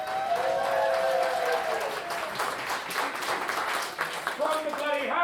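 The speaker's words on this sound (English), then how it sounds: "I will hear a round of applause for everyone who got up and spoke." A crowd applauding at a wedding, dense sustained clapping throughout, with a few voices calling out and talk rising near the end.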